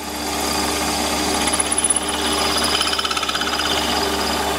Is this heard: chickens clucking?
no